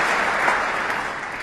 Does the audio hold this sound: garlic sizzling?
no